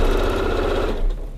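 A sewing machine stitches along a seam, a steady fast mechanical whir with a rhythmic needle chatter, loud and close and running continuously.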